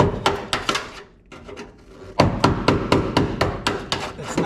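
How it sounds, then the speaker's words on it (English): A sharp wood chisel driven through a rusty floor pan on an '82 Ram Charger, heard as a close series of loud metallic strikes and scraping tears, with a brief lull before the blows resume rapidly. "just tear into it with a chisel, and there's nothing better than a good strong wood chisel"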